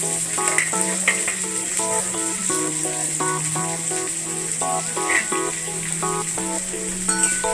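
Two large finely chopped onions frying in a pan of crackling tempering, a steady sizzle running throughout under a loud, continuous melodic background of music.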